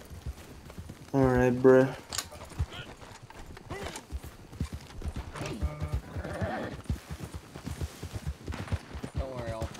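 Hooves clip-clop in a steady, rapid rhythm as a horse moves through a cowboy video game, joined by a couple of loud neighs and whinnies, while a player speaks briefly over the game sound.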